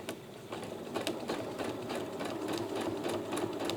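A sewing machine stitches ribbon onto quilt fabric in a steady, continuous mechanical whir with fast needle clatter, close and alone with no talk.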